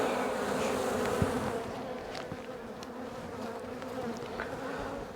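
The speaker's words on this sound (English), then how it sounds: "They're buzzing up, they're trying to sting me." Agitated bees swarm close around an open hive, a dense, droning buzz that swells loud at first and then settles into a steadier hum with individual insects zipping past.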